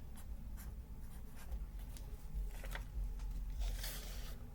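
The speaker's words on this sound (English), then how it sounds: "I'm going to write it down." Pen or pencil writing a fraction on a number line, quiet scratchy strokes in short bursts over a low background hum.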